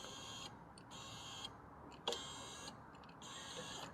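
Electric motor of a BMW E87/E90 car window regulator running on a bench test, a faint steady whirring hum that starts and stops in several runs, with a small click in between, no speech.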